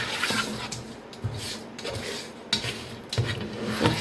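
Chicken thighs in marinade being stirred in a pot, a utensil scraping and clinking against the metal in uneven strokes over a soft sizzle, close and moderately loud.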